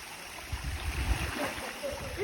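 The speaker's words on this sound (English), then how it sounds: "We made it to the waterfalls." A waterfall in the wild gives a steady, close rushing roar with low rumbling surges, continuous through the moment with no clear talk over it.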